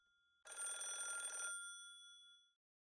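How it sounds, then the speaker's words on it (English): A telephone rings in a quiet scene of the Higurashi When They Cry visual novel, one loud, steady trilling burst of about a second with a short fading tail, heard alone without talk. "Suddenly, the phone rang, breaking the silence."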